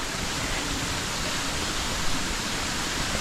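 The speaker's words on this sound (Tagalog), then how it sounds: "Ito yung Mahogany Falls." Mahogany Falls, a waterfall in Trece Martires, Cavite, pours in a steady, dense broadband rush with no let-up across the whole stretch, sounding close and fairly loud with no voices over it.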